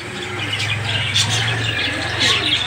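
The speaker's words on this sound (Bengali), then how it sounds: "এইখানে দেখতে পাচ্ছেন এক জোড়া রেসার, এটা হচ্ছে মিলি আর এটা হচ্ছে গ্রিজেল" A pair of racer pigeons calls in a series of soft, low cooing notes, steady and close throughout, with faint higher chirps from other birds around them.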